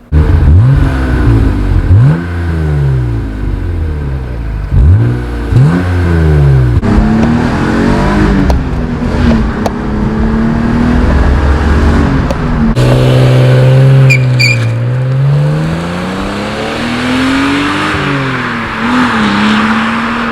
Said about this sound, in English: another reason why I bought this car is for the sound of the straight 6 S52 engine